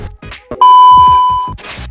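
A phone call rings out: a steady, loud electronic ringback tone holds for about a second between short bursts of other noise, with no talking.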